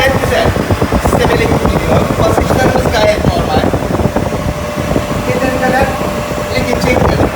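The compressor of a ship's refrigeration system runs with a loud, steady mechanical drone and rattling clatter in an engine-room setting, while someone talks over it.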